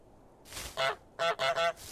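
A cartoon goose in Untitled Goose Game honks in a quick burst of four nasal calls, one then three in rapid succession, close and clear with nothing else around.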